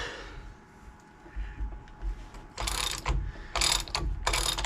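A ratchet works the pinion nut on a GM 14 Bolt axle, giving quiet clicking that turns into louder bursts of rapid ratcheting in the second half of the clip, close by and with no talk over it.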